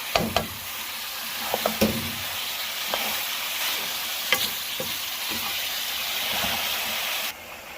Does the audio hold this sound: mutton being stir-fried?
yes